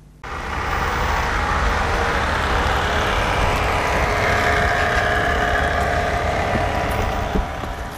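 A running model missile boat built by young ship modellers gives off a steady, loud motor whine and rush that starts abruptly and holds constant, like a small motorboat close by.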